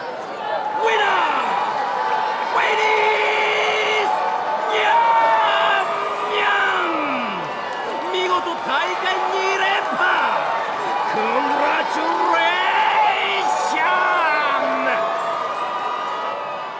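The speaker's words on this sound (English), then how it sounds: "A loud cheer bursts forth from the arena" Arena crowd cheering in the visual novel game Steins;Gate Elite, a sustained roar of whoops and shouts with rising and falling calls, loud and continuous over the whole stretch.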